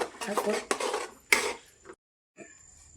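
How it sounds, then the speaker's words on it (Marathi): A utensil stirring raw egg in a pan for egg biryani, a few clattering metal scrapes and knocks in short bursts, then a brief silence and a faint scrape at the end. "आता याला कच्चे अंडे टाकते फोडून त्याच्यामध्ये, हलवून घेते।"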